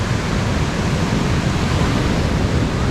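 Large ocean waves breaking at Imrang Beach in Gijang, Busan, a loud continuous roar of churning surf and rushing water with no pauses, close and dense throughout.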